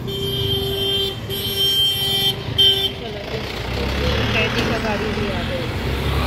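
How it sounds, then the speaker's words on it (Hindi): A prisoner transport vehicle pulls in at a jail, its engine rumbling nearby along with a horn-like tone, while people talk over it. "तो गाइस कैदी की गाड़ी भी आ गई"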